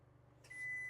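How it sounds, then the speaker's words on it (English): A microwave in a 2026 Coachman Pixel RV beeping as shore power comes on: one faint, thin, sustained electronic tone after a quiet hum. "So there's the microwave. It beeped."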